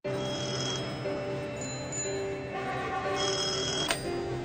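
A phone rings while a man is at a shop, sounding as repeated electronic ringing bursts layered over a steady tonal background.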